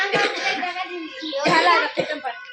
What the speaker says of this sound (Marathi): किती खोकला आला तुले औषध घे